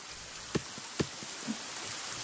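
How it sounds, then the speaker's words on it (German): Rain falling in the survival game The Forest, a steady soft hiss of rainfall with a few brief louder drips or knocks standing out, heard alone. "Es regnet, es regnet."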